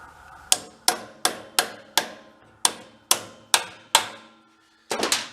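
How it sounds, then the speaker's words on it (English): Hammer blows strike a 17 mm nut on a Corvair Monza SS go-kart, about ten sharp metallic hits in a steady rhythm, loud and close, with a brief pause before a final quick pair. "Let's try hammering it on."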